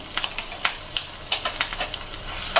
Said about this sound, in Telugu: తాలింపు ఫ్రై అయిపోయిందండి. ఇప్పుడు ఎండుమిర్చి ముక్కలు, ఇంకా కరివేపాకు వేసుకొని